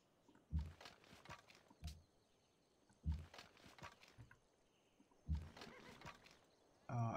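Several horse neighs and whinnies from the video game Civilization 5, coming in separate bursts spaced a couple of seconds apart, each fading out, with a faint background murmur and no talking.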